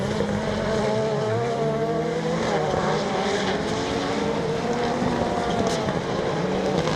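Rallycross race cars roar along the track at a British championship event, engine notes rising and falling as they run downhill, loud and continuous with no talk over them.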